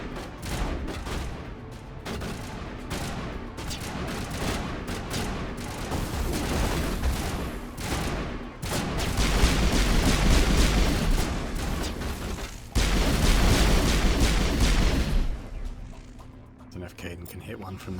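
Repeated gunfire crackles in dense, sustained volleys, swelling louder in the second half, with someone talking over much of the shooting.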